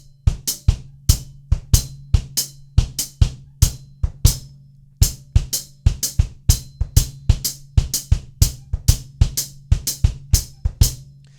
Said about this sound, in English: So the bass drum and the hi-hat now sounds like this.